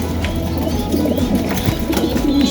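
Racing pigeons coo softly and repeatedly while drinking water back from a lock flight, with a continuous bustle of wingbeats and shuffling in the loft.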